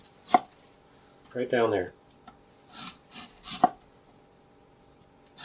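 A knife shaves thin slices from a head of cabbage for sauerkraut, a few sharp chops on a board mixed with a rasping stroke, close and clear, with a brief voice speaking in between.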